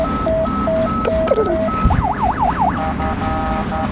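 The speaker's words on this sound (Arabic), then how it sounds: "اوعى السرينة" A loud police car siren in Russia alternates between two tones, briefly switches to a rapid rising-and-falling wail, then returns to the two-tone pattern, close and continuous.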